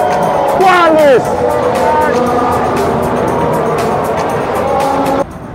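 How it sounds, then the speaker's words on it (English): Racing cars roar past on the Silverstone circuit, a loud engine whine sweeping down in pitch, with crowd noise and babble underneath. "it's the noise of the cars that creates such a massive atmosphere."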